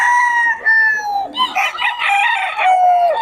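A sweater gamefowl rooster crows loudly and close, two drawn-out calls with a brief cluck between them, alone without talk.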